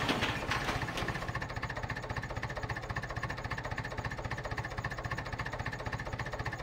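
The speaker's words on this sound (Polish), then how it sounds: "Tu jest nasz oryginalny traktor." A tractor engine runs in a farming video game, a steady rhythmic chugging idle with a fast pulsing knock, loud and continuous, a brief rattle at the start and no talk over it.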